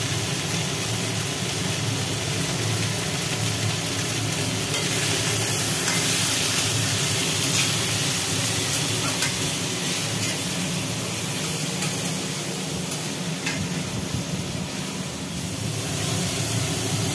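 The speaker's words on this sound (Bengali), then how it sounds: "মোটামুটি শাক শুদ্ধ আনাজগুলো ভাজি হলো" Vegetables and red amaranth greens with salt and turmeric fry in a pan, giving a loud, steady, unbroken sizzle with no one talking.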